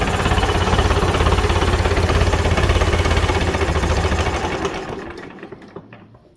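Perkins 4.270 diesel engine fitted in a Standard Fordson tractor runs with a steady, loud, dense mechanical drone and rapid knocking pulse, then winds down and stops near the end, leaving a few faint clicks.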